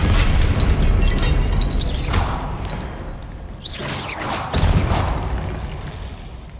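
Expelliarmus spell cast in a Harry Potter video game, loud magical bursts and crackling booms in several quick hits over a dense rumbling background, close and alone without talk.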